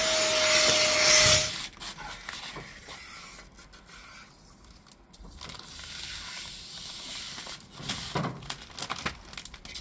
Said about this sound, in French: Donc, du coup un petit coup d'aspirateur hein, pour enlever tout ça